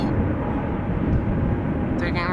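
A Qatar Airways airliner departs Schiphol airport in Amsterdam with a loud, steady rumble of engine noise that stays strong for the whole stretch, and a faint higher whine rises near the end.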